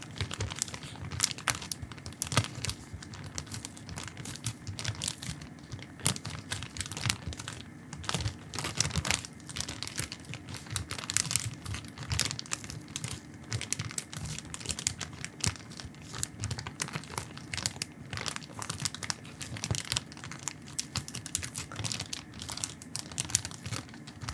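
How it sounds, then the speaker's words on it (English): A plastic bag crinkles and rustles continuously up close, dense crackling handling noise with no voices. "And there's some nice plastic bag, wrinkly."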